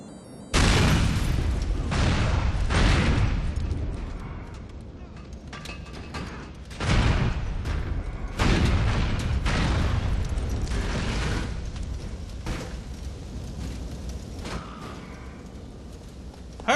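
A car bomb detonates in Grand Theft Auto IV, a heavy booming blast followed by several more loud bursts and rumbling aftershocks spread over about twelve seconds, with crackling debris trailing off at the end.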